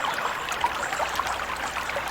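Water flowing at a waterfall: a continuous close trickling and splashing rush, fairly loud and steady, with no voices.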